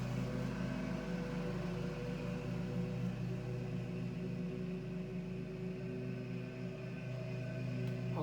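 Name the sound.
lawnmower running in the background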